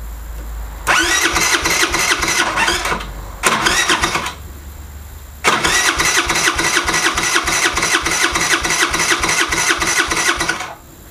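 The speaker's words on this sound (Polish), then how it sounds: "Mógłbym to na krótko spróbować odpalić." A scooter engine cranks repeatedly as its starter is shorted directly: a first burst of about two seconds, a short second try, then a long grinding crank of roughly five seconds, loud and close with no voices.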